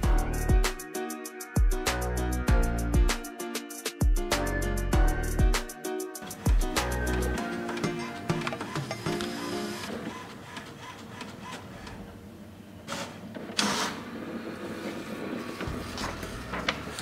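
A printer copies a Kuwaiti dinar banknote: loud rhythmic mechanical clunks and feed pulses for about seven seconds, then a lighter continuous whirring and shuffling as the print runs out, with no voices.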